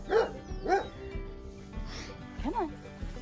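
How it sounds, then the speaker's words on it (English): A livestock guardian dog on a farm gives short whimpering yips and barks, mixed in with a person talking nearby, several brief outbursts spread across the moment. "Is he still barking at you?"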